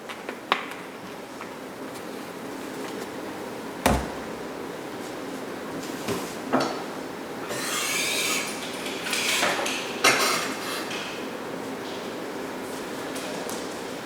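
A small saucepan on a home kitchen stove, with olive oil going in: scattered metallic clinks and knocks, one sharp clank, and a brief rustle or sizzle, heard close against a steady background hiss.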